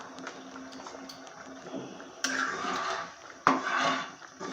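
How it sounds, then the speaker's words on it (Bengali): Fried vegetables tipped into a pot of Bengali puja bhog khichuri and stirred in, with clattering ladle scrapes and two sharp knocks against the pot over a low sizzle and bubbling. "এখন আমি এই সমস্ত সবজি আমি এর মধ্যে দিয়ে দেব।"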